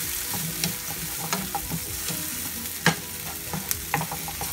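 Ingredients for a stuffed liver and ground-meat dish frying in a pan while being stirred, with steady sizzling and scraping spoon clatters throughout, close and without talk.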